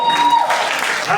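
A church congregation applauds and cheers, a dense burst of continuous clapping mixed with raised voices filling the room for a brief moment.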